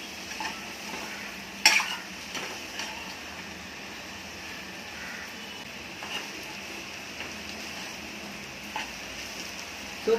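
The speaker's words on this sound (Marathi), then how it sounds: "कढईला चिकटतं तोपर्यंत मसाला किंवा भाजी हलवायची" Dry taro (arbi) bhaji is stirred in a kadhai over a soft, continuous sizzle, with a spoon scraping and occasionally clinking sharply against the metal pan.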